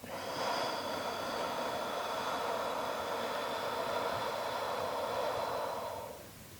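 A long, breathy exhale during a simple lung-health breathing exercise, a soft, steady rush of air that holds for several seconds and then trails off, close and alone.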